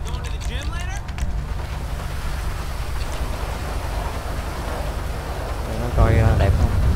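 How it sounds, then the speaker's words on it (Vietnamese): Rain weather in the video game GTA 5 gives a steady wash of falling rain and wind throughout, with short mechanical chirps at the start and a heavier rumbling burst near the end. "Cho thời tiết mưa rồi mình coi."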